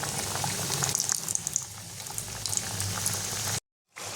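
Oil bubbles and sizzles steadily as chicken patties deep fry in small batches, then the sound cuts out briefly near the end.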